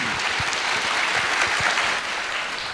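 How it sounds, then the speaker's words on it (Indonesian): Loud, steady applause from a crowd at a public lecture on democracy and political participation, continuous clapping filling the short stretch without speech. "Sekali lagi tepuk tangan yang meriah untuk Pak Ganjar."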